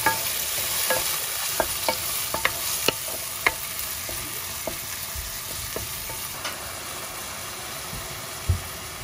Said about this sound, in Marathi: भाजे कोथमीर, चॉप टोमॅटो घातले आता